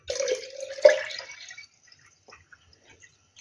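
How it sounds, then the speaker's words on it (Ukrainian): Water poured into a glass jar to top up tomato pickling brine, a brief trickling splash near the start that trails off into a few scattered drips and then quiet. "Взяла воду і буду доливати до повної баночки."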